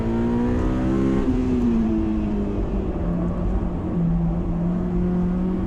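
A Honda S2000 is driven hard through hilly curves, its engine howling loud and close from inside the car with revs holding high, dipping and climbing again as it powers through the bends, no talking.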